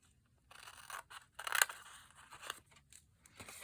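Scissors cutting through card for a pop-up gift bag card, a series of close, crisp snips and crunchy cuts in irregular bursts with short pauses between.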